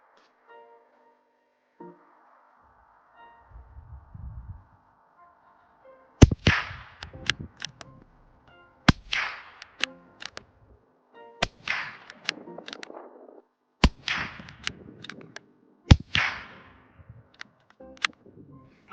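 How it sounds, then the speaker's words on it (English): Five sharp, loud .22LR rifle shots from a CZ 457, fired at a target about 30–35 yards away, each a crisp crack with a short decay, spaced a couple of seconds apart after quieter handling sounds at the start. "I'm going to be shooting at the target, like I said, 5-shot group."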